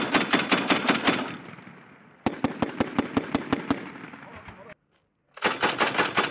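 A military machine gun fires in rapid, loud, close bursts with short pauses and one brief silence between volleys, cracking sharply over an outdoor echo.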